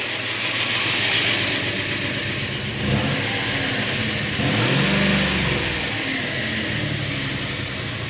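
An abandoned Subaru car's engine idles and revs on bad gas, surging a little, with two rising revs over a steady close rumble and no talk.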